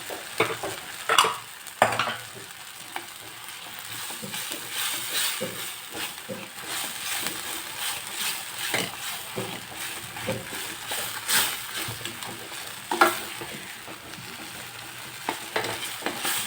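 Pav bhaji masala with garam masala, chaat masala and salt being sautéed and stirred in a pan, a continuous sizzle broken by repeated scraping strokes and occasional louder knocks of the spoon.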